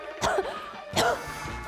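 Two short, raspy coughs a little under a second apart, fairly close and moderately loud, with quiet room tone between them and no talking.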